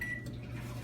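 Microwave oven running while it melts butter, a steady low hum with a constant drone that carries on evenly from start to end, close by and fairly quiet.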